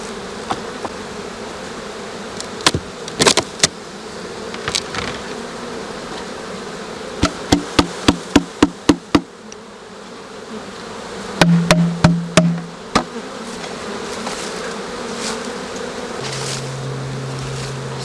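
Honey bees drone steadily around hive frames beside a queen excluder, a continuous buzzing hum with sharp clicks and knocks from handling the frames scattered through it.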